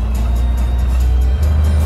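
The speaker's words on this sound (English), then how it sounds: "I'm going to try double clutch downshift" A 1936 White tour bus engine during a double-clutch downshift, a loud, close, steady low drone whose pitch drops and shifts near the end as the gear changes.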